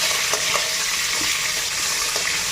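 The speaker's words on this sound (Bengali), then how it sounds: "এক পিঠ ভাজা হয়েছে" Fish, one side already browned, fries in a pan, giving off a loud, continuous hissing sizzle with faint crackles and no talking.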